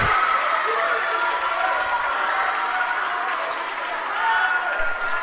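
High school varsity basketball crowd in the gym cheering and applauding after a blocked shot in a Community vs Suburban game, a steady wash of clapping and shouts that swells again near the end.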